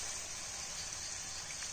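Water poured into a cooking pan with chana dal for a wild-vegetable dish in a village kitchen, a steady soft pouring hiss lasting under two seconds, fairly quiet and without talk.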